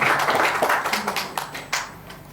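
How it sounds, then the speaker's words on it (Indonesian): A church congregation claps hands together in a brief, fairly loud burst, the claps pulsing in a quick, roughly rhythmic pattern for a couple of seconds. "Tepuk tangan buat kita semua."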